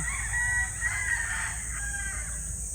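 Young gamecocks (stags) at a game farm crow in a short, fairly distant call with a few clucks, over a quiet background hum.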